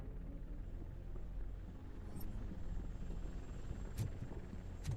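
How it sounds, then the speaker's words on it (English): Helicopter in the video game Robocop: Rogue City, a steady low rotor rumble that holds throughout at moderate distance, with faint game effects above it and no talk. "That's a TV helicopter."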